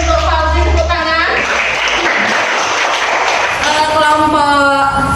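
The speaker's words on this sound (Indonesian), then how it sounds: "Terima kasih untuk Fauzi, tepuk tangan." Classroom applause from a group of students, a dense burst of clapping lasting several seconds, close and steady with voices mixed in underneath.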